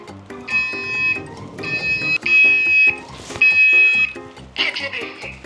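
A smoke alarm set off by smoke from a frying pan blares in loud repeated electronic bursts with short gaps between them, while voices talk over it.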